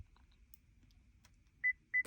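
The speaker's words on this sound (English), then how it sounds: "That's the beeping." Two short, clear electronic beeps sound close together near the end, confirming programming of a remote starter for a 2021-2025 Chevy Silverado in an otherwise quiet cab.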